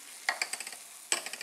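Food frying in a pan is stirred with a utensil, giving two short bursts of quick scraping clicks close up against a faint background sizzle.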